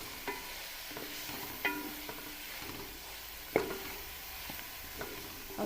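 Coarse green chili paste frying in a kadhi pan for kadhi pakoda, a quiet, even sizzle punctuated by several sharp clicks of a spoon stirring against the pan.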